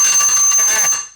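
A loud, sustained electric bell rings continuously with a bright metallic tone for about a second, then fades out, with no voices over it.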